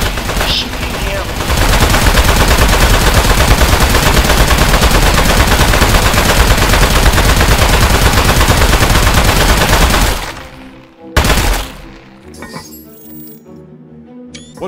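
Dense, continuous gunfire from the video game Aperture Desk Job roars loud and close for about ten seconds, then cuts off abruptly, leaving a brief burst and quiet scattered clicks.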